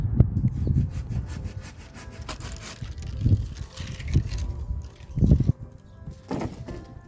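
A hand saw cuts through a branch on a young native plum tree, its rough strokes rasping in uneven bursts close by, with pauses between pulls and no talking.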